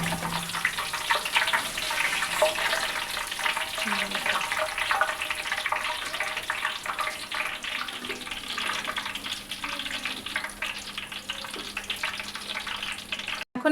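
Onions frying in oil for beresta, a crispy fried-onion garnish for a wedding-style chicken roast, sizzling steadily and fairly loudly throughout with a hissing, bubbling texture.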